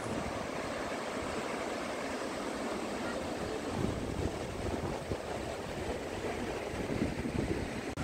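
Steady, broadband rushing water roars continuously from Shivanasamudra Falls near Bangalore, heard from a distance, with wind buffeting the microphone.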